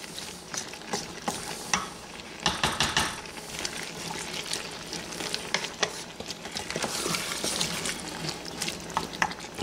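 Beef stew in a pot brought to a simmer and stirred, with scraping spoon strokes, bubbling and wet sloshing at close range, fairly loud and continuous with no talk.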